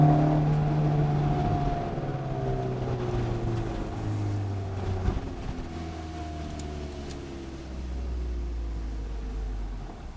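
An old Honda CRX with a D16A9 engine drives along, its engine note rising and falling through gear changes, steady and close from inside the cabin, with no talk.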